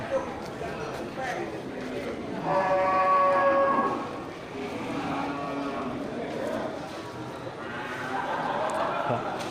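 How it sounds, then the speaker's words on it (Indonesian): Cattle, including a large Angus bull and a Simmental, moo with drawn-out, low calls, one louder bellow in the middle and others trailing off, over steady outdoor background noise. "kita lihat ada satu ekor sapi berangus jantan ya"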